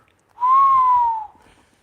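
A person whistles a single smooth, sustained note that rises slightly then glides down, loud and close, aimed at cats, with faint low rustling after it ends.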